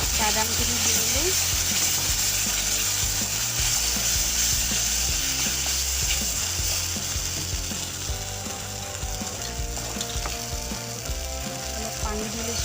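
Roasted peanuts fry with ground cumin, coriander and salt in a pan, a steady loud sizzle with scraping and clinking of a spoon stirring throughout, no voices.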